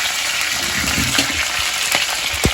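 Brinjal pieces fry in hot oil in a home kitchen pan, a steady close sizzle and bubbling hiss with a few sharper spits and pops near the end, heard alone.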